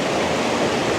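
Bear Creek rushes along in a steady, dense wash of flowing water, close and loud, with no other sounds rising above it.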